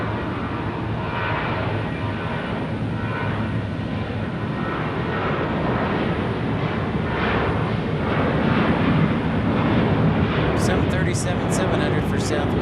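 Southwest Airlines Boeing 737 departing Phoenix Sky Harbor, a steady, loud broadband jet roar that holds throughout with a slight swell toward the end, a few sharp high ticks near the close.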